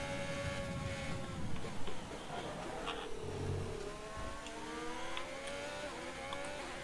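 F1 car engine in F1 2020, racing in another car's slipstream: a high, steady engine whine with rising and falling pitch sweeps, against a continuous rushing roar.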